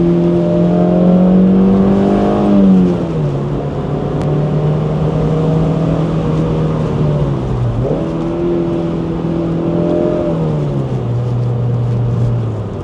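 A car engine revs through heel-and-toe rev-matched downshifts on an open road, a loud steady drone with pitch dips and quick blips as gears change, alone without talk.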